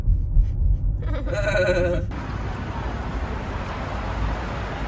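A goat bleats once, a short wavering cry lasting under a second, fairly close, over steady wind and road rumble outdoors on a weekend trip to Sokcho.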